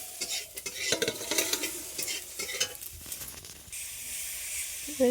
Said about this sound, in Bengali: এই রান্না করছে আমার বোন আজকে কি রান্না হবে এই দেখো মাংস হবে আর হবে বাঁধাকপি চচ্চড়ি